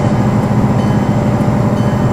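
A set of EMD F7 diesel locomotives roars at full throttle in a train simulator game, a loud, steady low engine drone with rhythmic rumbling and no voices over it.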